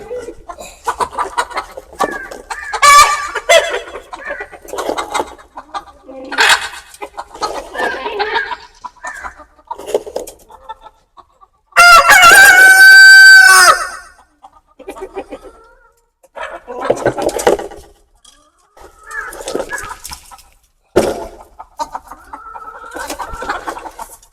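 Native country hens cluck and a rooster crows loudly partway through, amid steady farmyard clucking with people talking nearby.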